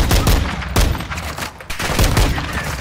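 Single-fire gunshots in Call of Duty: Modern Warfare 2, a few loud separate reports spaced unevenly over a dense, booming game background, with no talking.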